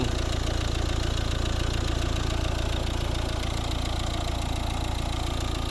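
A 2012 Volvo S60 with a 1.6 diesel engine idles steadily, heard at the exhaust as an even, continuous diesel rattle and hum with no voices.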